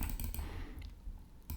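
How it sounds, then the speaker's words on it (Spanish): Computer keyboard keys, Shift and an arrow key, are pressed in a quick run of soft clicks near the start, then a pause and another click at the end, close and without talk. "presiono la tecla Shift del teclado, flecha arriba"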